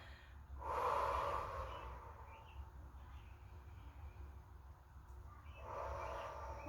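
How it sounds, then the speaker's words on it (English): A person exhales during a breathing exercise, with a soft, airy breath near the start and another near the end over a low, steady background hum. "Exhale."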